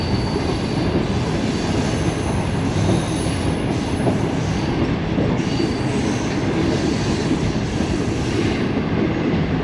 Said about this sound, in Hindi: ये दोस्तों यूसुफवाला रेलवे स्टेशन से पास थ्रू हो रही है।